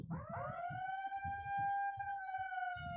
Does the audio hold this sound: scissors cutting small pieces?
no